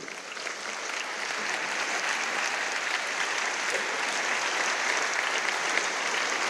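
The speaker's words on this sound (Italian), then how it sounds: "Un bel applauso per Stefano." Steady, full audience applause for choir conductor Stefano Fumo at a concert, dense clapping sustained evenly throughout without pause.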